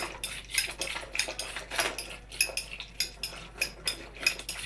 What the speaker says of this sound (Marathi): आता ती हलवून घेते त्या भाजीला जरा जरा घुटून कुकर कुकरमध्येच घोटत आहे